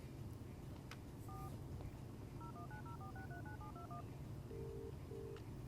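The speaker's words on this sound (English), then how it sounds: "My battered old phone had seen better days. Perhaps I should make a call." A phone in the video game Broken Sword: The Sleeping Dragon is dialed, a quick series of faint touch-tone beeps, a pause, then two longer tones, over low background hum.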